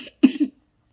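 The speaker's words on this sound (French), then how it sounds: "j'arrête pas de tousser." A single short cough, a quick double burst close to the microphone, followed by silence.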